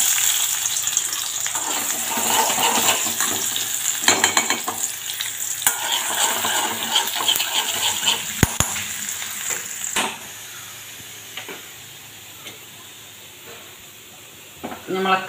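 Chopped shallots fry and sizzle in ghee for kanji, a loud steady crackle with stirring clatter. It fades to a quieter hiss toward the end, and a voice speaks briefly over it.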